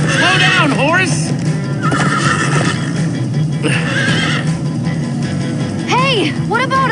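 Several horses whinny and neigh repeatedly in the video game Minecraft: Story Mode, over a busy backdrop of hooves and voices, the calls rising and falling throughout.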